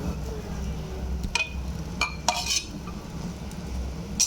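A pressure cooker lid comes off and a spoon skims foam from cooking chana dal, giving a few metallic clinks and scrapes over a low steady hiss, while someone talks throughout.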